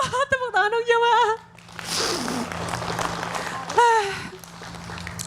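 A congregation at an Islamic religious gathering breaks into a few seconds of applause between stretches of speech, the clapping rising after a voice stops and fading as talking resumes.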